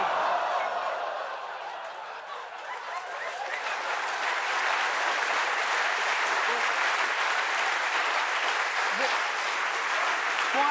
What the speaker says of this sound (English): ladies and gentlemen, you've just applauded the tragic death of Sir Hoy